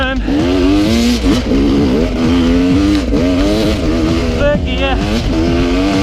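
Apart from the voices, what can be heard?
RR300 enduro motorcycle engine accelerating uphill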